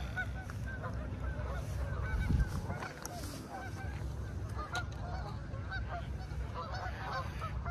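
A flock of Canada geese honking repeatedly at sunrise, many overlapping calls at a moderate distance over a low ambient rumble.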